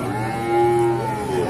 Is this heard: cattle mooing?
yes